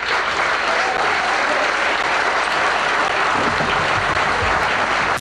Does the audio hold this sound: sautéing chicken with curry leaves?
no